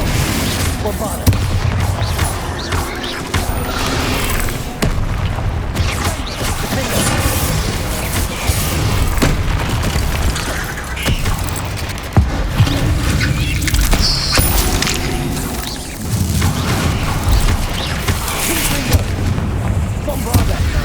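Bombarda blasting spell explosions and other spell impacts in Hogwarts Legacy boom repeatedly through a loud, dense battle, with a voice calling out at intervals.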